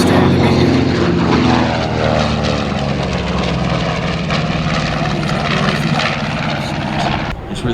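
An A-1 Skyraider propeller warbird flies at a military airshow at Miramar, its loud, rough piston-engine roar and propeller drone filling the air and fading slightly near the end, with crowd chatter and announcer voices faintly underneath.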